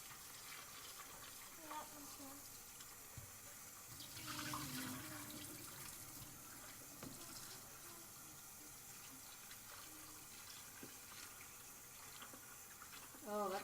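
Running water from a tap splashes steadily as homemade butter is rinsed in a bowl, the flow continuous and close with brief swishing surges.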